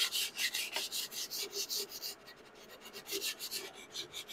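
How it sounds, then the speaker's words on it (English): Sandpaper, 220 grit, rubbing by hand along the edges of a live edge wooden serving board, a steady run of close, rhythmic back-and-forth rasping strokes heard on their own. "I'm going to do a little bit of a fine sand on these edges"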